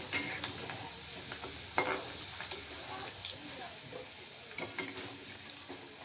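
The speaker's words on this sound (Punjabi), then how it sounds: "ਲਸਣ ਨੂੰ ਪਹਿਲਾਂ ਆਪਾਂ ਭੁੰਨ ਲਵਾਂਗੇ ਹਲਕਾ ਜਿਹਾ ਲਾਲ ਕਰ ਲਵਾਂਗੇ ਇਹਨਾਂ ਨੂੰ" Garlic roasting in a pan for dal palak crackles in a steady close sizzle, broken by a few sharp stirring knocks and scrapes.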